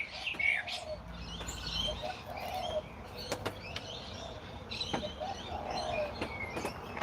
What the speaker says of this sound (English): Noisy miner, I want to say. Maybe blue fairy wren.